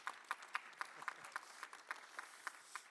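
Sparse, rhythmic clapping at a seed trade panel discussion, a faint steady beat of a few hands at roughly even intervals rather than full applause.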